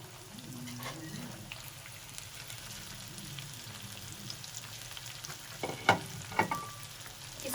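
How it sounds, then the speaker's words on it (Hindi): Breadcrumb-coated chicken chilli bites fry in oil, giving a soft, steady crackling sizzle close by, with a few sharper clinks and stirring knocks near the end. "अब इसको हम फ्राई करेंगे।"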